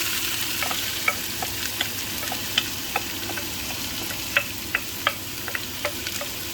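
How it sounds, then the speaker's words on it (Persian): Roughly a kilo of diced onions fries in a heated pot for abgoosht, a soft continuous sizzle dotted with irregular crisp pops and light ticking crackles. "پیازمو باش سرخ کنم"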